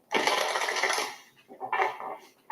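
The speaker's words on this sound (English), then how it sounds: "Okay, one more shuffle." A deck of tarot cards is riffled and snapped together in quick bursts, close and crisp, with no voices.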